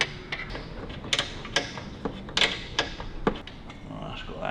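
A nylock nut being wound onto a bolt while fitting a hand clutch on a Harley-Davidson WLC, with irregular metallic clicks and ratcheting taps close up and a voice talking over them.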